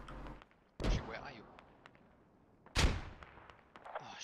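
Two heavy, booming explosions from grenades in a military video game, one near the start and one about two seconds later, each a sharp loud blast with a short decaying tail over low background noise.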